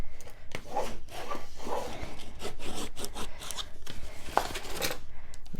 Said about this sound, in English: turn it over and burnish it some more